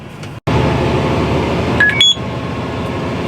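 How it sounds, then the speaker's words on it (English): Electronic planter monitor beeping inside a Fendt tractor cab during planting, a few short high tones over the steady drone of the engine and cab fan. "it's just beeping where we're filling in every now and again"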